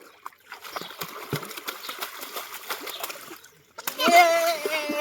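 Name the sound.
water splashing in a homemade swimming pool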